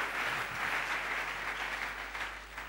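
A church congregation claps for a sermon, with a broad, steady wash of applause that sounds somewhat distant and soft and carries on evenly without voices.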